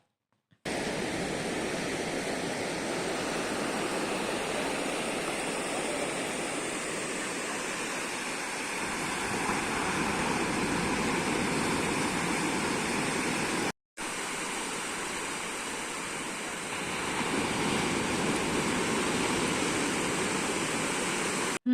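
Sea waves wash steadily onto the beach at Tarkarli in Malvan, a continuous broadband rush of surf that swells and eases with no voices, briefly cut near the middle.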